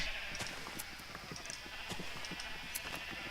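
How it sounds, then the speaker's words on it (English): Sheep being sheared in the Minecraft video game, with a run of short, crisp game clicks and snips against a steady, busy background that carries on throughout. "I'm gonna just try to quickly shear the sheep around real quick"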